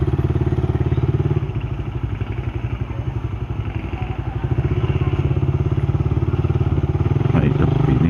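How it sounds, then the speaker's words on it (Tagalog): Motorcycle engines run steadily and fairly close throughout, with a continuous throbbing mid-range rumble and occasional clattering bumps; no one speaks. "Tingnan dito ng mga motor."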